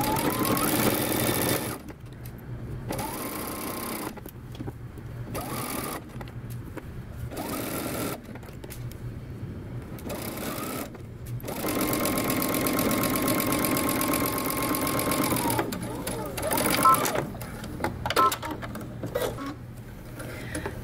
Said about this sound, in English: now you're gonna go ahead and sew using, again, 5/8 of an inch seam allowance